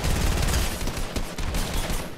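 Sustained assault rifle fire from a video game, a dense continuous spray of rapid shots that stays loud for the whole stretch with slight dips in intensity and no talking over it.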